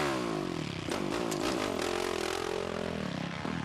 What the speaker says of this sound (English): So the 4-stroke fired back on track